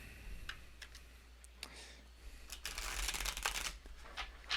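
Tarot cards are shuffled by hand in short riffling bursts, then a longer, louder flurry of shuffling close by. No voice is heard.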